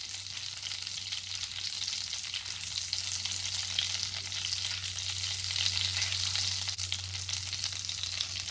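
Half a stick of unsalted butter sizzling in a cast iron skillet, a steady soft crackling fry with a low hum beneath, no talk.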